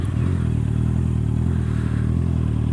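Honda CB650R motorcycle cruising at steady speed, its mid-pitched inline-four engine droning continuously and loud with wind rush and faint mechanical clatter, close and constant throughout without any talk.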